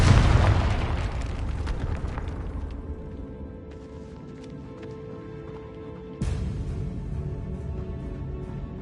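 A Confringo blasting spell goes off in Hogwarts Legacy inside a decayed catacomb: a loud, close boom opens and rumbles away into quiet, then a second sharp burst strikes about six seconds in and lingers.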